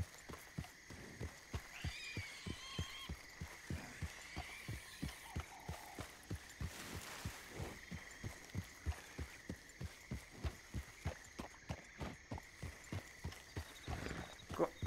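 Hooves of horses clip-clop in a steady, regular rhythm during horse taming on the Project 1920 server of the RedM roleplay game, an even run of close, loud hoofbeats through the whole stretch with a faint whinny and light background noise.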